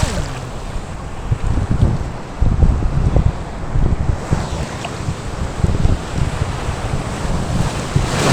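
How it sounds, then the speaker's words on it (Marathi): Waves wash onto the muddy-water shore of Chinchani Beach in Palghar, a loud, continuous surging rush with rolling swells, heavy wind buffeting the microphone and no talking. "लाट आली."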